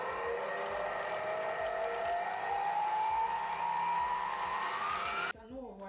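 A high-speed electric mixer whirs steadily through eggs and sugar, its pitch slowly rising before cutting off abruptly near the end, close and fairly loud.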